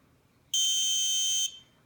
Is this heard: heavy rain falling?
no